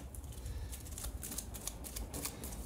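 Cards for the Battlestar Galactica board game are shuffled at a tabletop session, giving a steady, soft riffling and flicking that runs quietly throughout with no talk.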